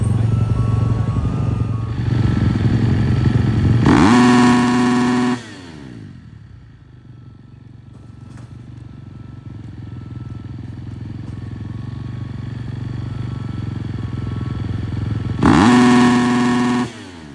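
Honda supercross motorcycle at a pre-event sound check in an empty stadium, revving loudly in two sharp bursts with a quieter idle between, no talking.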